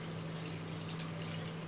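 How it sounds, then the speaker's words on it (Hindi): Water is poured steadily into a pot of mutton spinach curry with ginger-garlic paste and tomatoes, a continuous rushing, splashing wash of liquid close by under a low steady hum, with no talk. "1 लीटर पानी ऐड कर देंगे।"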